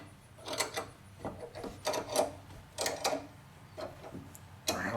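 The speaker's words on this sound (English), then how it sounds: "I'm tightening down on the clamp now." A bench vise clamp being cranked tight to press a sway bar bushing out of a Corvette C4 rear suspension link, giving repeated short scraping, ratcheting rubs in uneven bursts, close and moderately loud with no talking.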